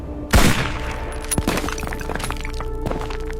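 A single sharp sniper rifle shot cracks out loud and close, then rolls into a long echoing rumble with scattered thuds and debris-like crackles in a wartime battlefield scene.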